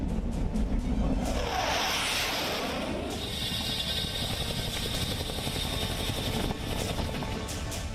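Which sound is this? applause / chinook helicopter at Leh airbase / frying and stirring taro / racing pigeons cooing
chinook helicopter at Leh airbase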